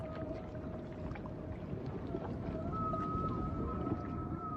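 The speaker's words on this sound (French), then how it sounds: "Année après année, les baleines inventent de nouveaux chants." Long, eerie whale moans and rising calls drift faintly over a low underwater rumble, like humpback song heard from a distance.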